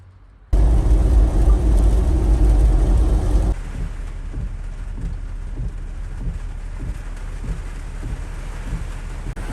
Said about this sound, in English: I don't know if you can hear us over the rain, but it is bucketing down.